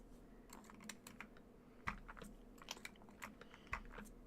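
Faint clacky typing on a KBDFans Athena 1800 mechanical keyboard fitted with non-standard keycaps, quick irregular keystrokes with a few louder thocks, heard quietly and up close.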